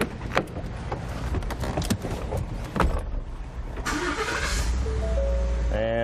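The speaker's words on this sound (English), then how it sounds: "It took Perkins under a minute to start that truck" A truck's engine cranks and catches after being started without a key by a thief's electronic key-data device, turning over amid rattling clicks and settling into a steady idle near the end, no voices.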